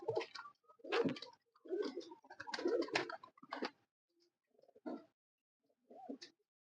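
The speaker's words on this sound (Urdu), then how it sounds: "فواد بھائی میرا سب سے پرانا کبوتر ہے جی." Soft coos from an old champion breeder pigeon come in short bursts with gaps between them, close and fairly quiet, with no other sounds around.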